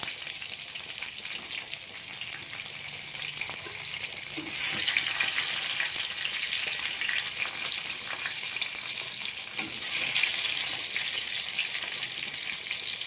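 Fish frying in a pan of curry for an Assamese fish posola dish, a steady bright hiss of sizzling oil that swells louder in bursts, with faint stirring and no voices.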